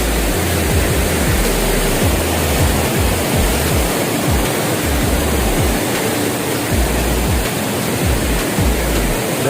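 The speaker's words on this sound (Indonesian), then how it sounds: "sudah berdiri dengan gagahnya air terjun Ciberem" Ciberem waterfall, at about 1620 m on Gede Pangrango in Indonesia, pours down in a dense, steady roar of falling water that fills the whole clip with constant loud rushing noise and a deep low rumble, with no voices.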